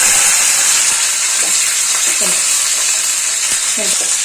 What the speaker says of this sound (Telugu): మిరపకాయలు కాటు వేసుకోవాలి